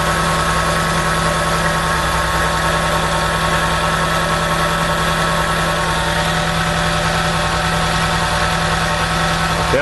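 A weak VW Gol with a CHT 1.0 engine idling roughly and shaking, heard up close as a loud, continuous mechanical drone with a steady hum throughout and no talking.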